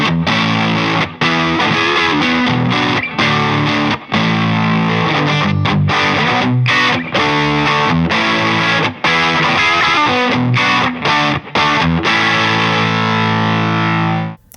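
Electric guitar played through a VS Audio JangleMaster pedal, an AC30-style amp-in-a-box, with its boost engaged, giving a loud, driven, distorted tone with sustained chords and brief choppy gaps between strums.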